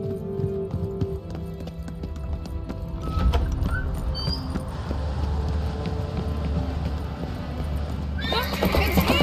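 A horse in The Witcher 3: Wild Hunt gives a few short, high whinnies over steady clip-clop hooves and ambient noise, with voices speaking at times.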